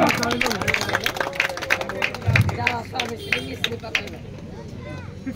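Spectators at a village drum competition in Bada Jorada clap in scattered bursts while a voice talks over the applause.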